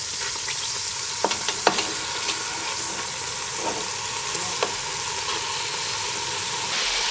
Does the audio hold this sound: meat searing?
yes